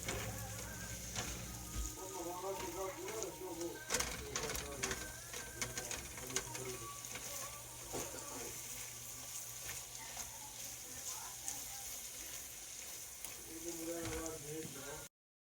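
Onions frying in a pan for thieboudienne, a steady close sizzle with a moisture-driven crackle and occasional stirring scrapes and clinks throughout, ending abruptly.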